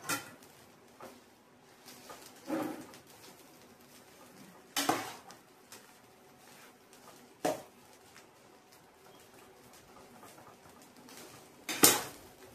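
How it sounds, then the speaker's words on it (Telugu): Coconut rice is stirred in a pan in a South Indian kitchen. A quiet background is broken by sparse metallic clinks and scrapes of a spoon against the pan, with a few sharper knocks. "దీన్ని ఇప్పుడు బాగా కలుపుకోవాలి."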